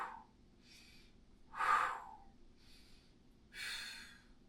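Slow breathing during a mat Pilates exercise, several soft inhales and exhales spaced about a second apart, with two louder, fuller breaths standing out, close and alone without talk.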